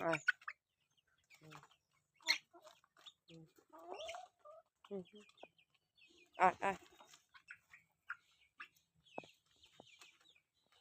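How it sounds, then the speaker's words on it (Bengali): Chickens cluck and squawk in short, scattered bursts as they rush toward food, the calls close and fairly quiet with gaps of silence between them. "এখন কিন্তু মুরগিগুলো ছেড়ে দিব দেখেন ওদের খাবার দেখে ওদের রিয়াকশনটা দেখবেন"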